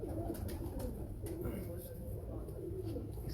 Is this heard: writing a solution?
no